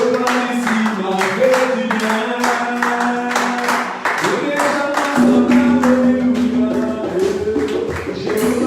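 A church congregation claps and cheers after a prayer at a healing service, steady rhythmic applause with voices rising over sustained organ or keyboard chords.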